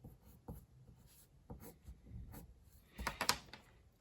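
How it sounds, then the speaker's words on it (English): A red pencil sketching on paper while an animation walk cycle is drawn, giving soft scratchy strokes in short bursts with a denser flurry near the end, close and quiet with no talk. "go over with a red pencil"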